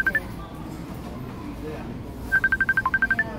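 A phone rings for an incoming call, with a short electronic chirp at the start and then a quick run of repeated beeping tones near the end, over quiet room noise.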